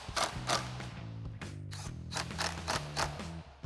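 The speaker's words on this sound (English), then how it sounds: "And we'll grab our 8mm socket and tighten these down." An 8mm socket ratchet tightening the intake filter clamps on a Ford F-150 EcoBoost cold air intake, giving a close run of rapid rhythmic pawl clicks with brief pauses between strokes.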